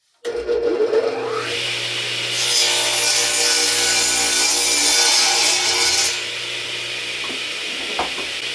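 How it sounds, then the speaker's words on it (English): A radial arm saw is pulled slowly through wood being cut into pieces for a toy pickup truck. The blade whines loud and steady for several seconds, then winds down. "let the blade work and cut it so you get a nice smooth cut"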